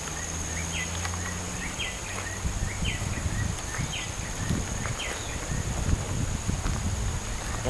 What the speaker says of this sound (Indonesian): Ada suara burung lain juga.